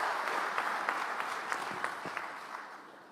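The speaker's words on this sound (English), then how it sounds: "Another round of applause." An audience at a business summit in Nairobi gives a round of applause. The clapping is steady and fills the room, heard from a little way off, and slowly fades as it ends.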